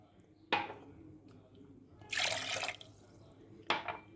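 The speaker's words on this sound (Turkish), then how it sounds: "2 su bardağı da su ekliyorum." Water is poured into a lemon biscuit dessert mixture, a short splashing burst between two brief knocks. The sound is faint and close, and a voice speaks softly underneath.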